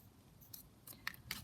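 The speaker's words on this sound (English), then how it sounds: "just going to cut the smaller flowers there" Scissors snipping out small paper flowers for a junk journal, a few quiet, crisp cuts spaced through a brief stretch.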